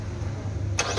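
A 2013 Nissan Rogue engine being started during a sensor fault check: steady low idle-like hum with a sharper, brighter burst of cranking noise near the end of a short snippet, no talk.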